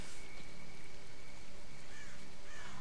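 Steady, dense rain hiss fills a dark, rainy video game setting near Pripyat, unbroken and fairly loud, with no talk.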